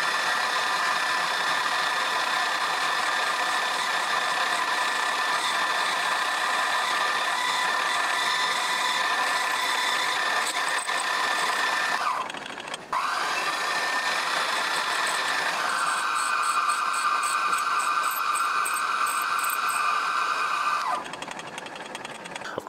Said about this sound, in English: Just putting a flat surface on there so I can get the drill started.